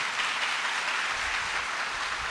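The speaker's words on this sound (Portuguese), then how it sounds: "Dê uma salva de palmas bem forte para o Senhor." Church congregation applauding, a thick continuous patter of many hands clapping in a worship hall, steady and fairly loud with no voices on top.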